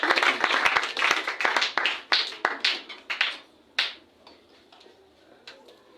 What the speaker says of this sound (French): Acclamons très fort pour Dieu.